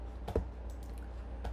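A computer keyboard being typed on for a short terminal command: a few soft keystroke clicks, quiet and close, with a brief cluster near the start and another near the end over low room hum.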